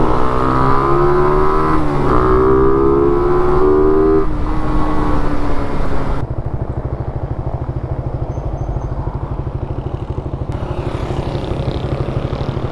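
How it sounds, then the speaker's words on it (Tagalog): A Raider 150fi motorcycle engine revs loudly and close on a ride toward Infanta, Quezon, a rising whine for several seconds before settling into a rapid, throbbing idle. "Malakas na gas yung motor niya eh."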